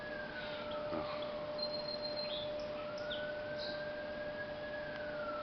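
A distant ambulance siren wails in long rising and falling tones over a quiet outdoor background, faint but steady throughout.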